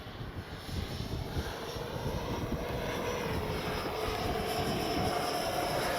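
A jet-engine whine from an FMS 70mm Avanti S V3 RC model jet drones steadily across the clip, growing slightly louder as it passes, with no voices.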